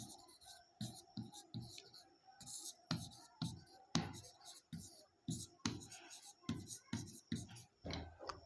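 A pen scratches out an answer to a Class 9 polynomials exercise in short, steady strokes that repeat through the clip. The writing sounds close and quiet, with no voice over it.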